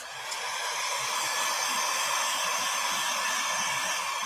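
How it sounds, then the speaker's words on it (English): Hair dryer heating expanding paste on a mixed media art panel, a steady close-up airy whoosh with constant high hiss throughout, no talking. "let me get my dryer back out. This is expand paste, and I'm gonna go ahead and dry this."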